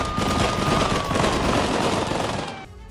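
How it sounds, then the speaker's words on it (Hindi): Sustained rapid automatic gunfire during an army anti-terror operation in Makhachkala, Russia, a loud dense rattle of continuous bursts that cuts off abruptly near the end. "तस्वीरें आप देखें और आवाज आप सुनिए फायरिंग की।"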